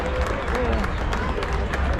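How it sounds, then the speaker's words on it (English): A ballpark crowd at a baseball game applauds two fans down in the seats, with broad clapping and crowd noise under a nearby voice talking. "How about the round of applause for Daniel and Jordan down here?"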